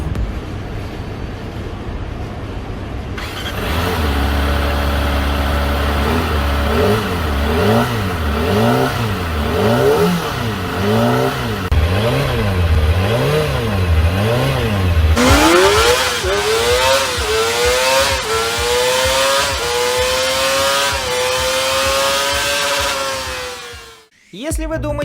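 A high-revving sport motorcycle engine with a rev limiter near 18,000 rpm idles and blips in repeated rising and falling surges, then climbs steadily into a sustained high-pitched scream, loud and close throughout.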